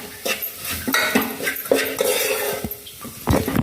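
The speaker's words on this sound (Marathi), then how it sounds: "कस्तुरी मेथी घालूया. सर्व जिन्नस एकजीव करून घेऊया." A spoon scrapes and clinks against a pan while matar paratha filling is stirred with kasuri methi, in short, uneven strokes, close and clear, with no talking.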